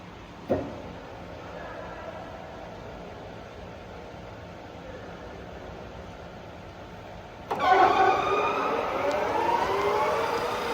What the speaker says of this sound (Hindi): And we will be right now showing the maximum spindle speed of 1750.